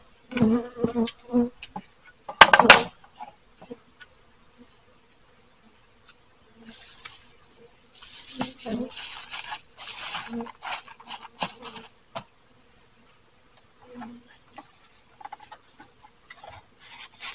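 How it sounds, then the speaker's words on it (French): Honeybees settling into a bee barn buzz faintly in scattered bursts. Quiet gaps separate the bursts, and a few sharp clicks and handling noises sit close by. "Les abeilles sont maintenant dans la bee barn."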